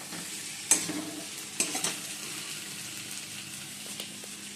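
Fish curry sautéed in a pan, with a steady close sizzle under scraping stir strokes and a few sharper clinks from the spoon, no voices.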